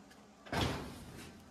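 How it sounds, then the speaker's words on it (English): A single door shuts with a dull thud that lingers briefly, alone against a quiet background hum. "But door shuts."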